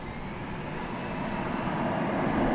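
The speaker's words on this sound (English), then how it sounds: "We're looking at an arrival now of United Flight 1235 arriving from Denver, Colorado." United Airlines flight arriving from Denver lands at DFW Airport, a steady distant roar of jet engines building slightly in loudness, with no talk.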